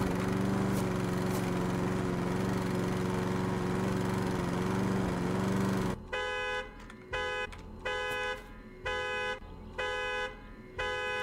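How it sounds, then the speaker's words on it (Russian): A lawn mower in the video game Hello Neighbor drones loudly and steadily for several seconds, then cuts to a repeating car-alarm-like beeping in regular on-off pulses. "Я так понимаю, надо включить газонокосилку."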